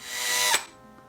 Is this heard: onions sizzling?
no